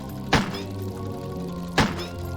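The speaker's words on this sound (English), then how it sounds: "Maybe I gotta shoot it into this spinner and it'll move the swan over to me." Two sharp, hollow thunks from a gunshot striking a swan boat in the horror game Crow Country, spaced about a second and a half apart over a low droning game soundscape.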